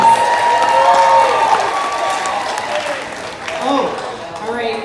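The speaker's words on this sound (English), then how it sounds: "Round of applause, everybody." A game-show studio audience applauds and cheers, a dense, steady wash of clapping with whoops and voices mixed through it, fairly loud and continuous throughout.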